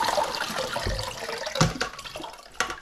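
Dyed CDC feathers are rinsed under running water, giving close splashing and gurgling with a few louder spurts amid a steady rush.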